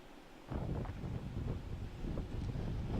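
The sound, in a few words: wind blowing hard on a ledge during a storm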